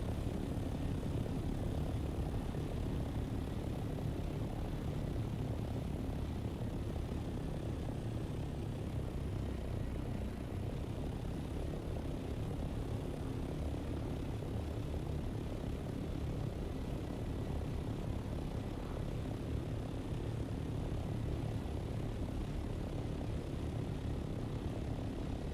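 A helicopter engine from the video game Dune Awakening gives a steady, droning low rumble and whine that holds at an even level for the whole stretch, with no speech.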